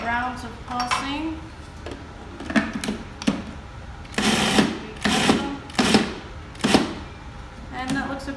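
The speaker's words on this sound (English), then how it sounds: "push it down for a couple more rounds of pulsing" A food processor pulses a chickpea loaf mixture in several short bursts of whirring, close and loud, with clatter and handling between the pulses.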